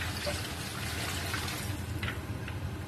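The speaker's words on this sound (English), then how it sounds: "Add your water." Steady, faint rush of water pouring into a cooking pot of Nigerian egusi soup, continuous with a soft splashing hiss and no talking.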